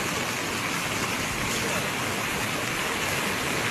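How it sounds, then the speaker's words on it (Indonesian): A fast, flooded river roars in a constant, broadband torrent close by during a flash flood in Indonesia, with faint voices beneath the noise. "Air sungai cukup deras."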